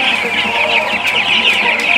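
Many broiler chicks in a poultry house chirp densely and continuously at close range, a steady high-pitched chorus with a few sharper peeps standing out.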